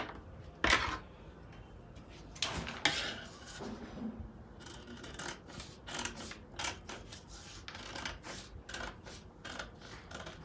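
Scissors cut through a paper trouser pattern in irregular crisp snips and rustles, close and fairly quiet, with pauses between the cuts.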